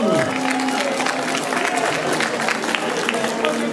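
An audience applauds at a prize ceremony, dense clapping that stays steady for several seconds while a voice speaks over it and some whistle-like tones sound briefly at the start.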